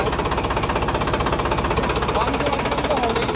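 A Farmtrac 45 tractor's diesel engine idles steadily up close at about 500 rpm, a low, even chugging rumble with a faint rhythmic knock from one injector nozzle running throughout.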